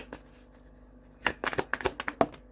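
Angel cards riffle and flick in a run of quick, close papery bursts, briefly and fairly softly, after a near-quiet start.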